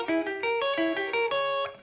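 An electric guitar plays a short diminished chord figure of quick, bright stepped notes, close and clean, with light effects, alone.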